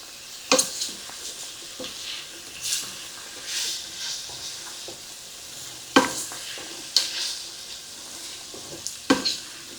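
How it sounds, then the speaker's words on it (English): A spoon stirring chicken and rice soup seasoned with thyme, salt and pepper in a pot, with several scraping strokes against the metal over a soft steady sizzle and no talk. "And go ahead and give it a good stir."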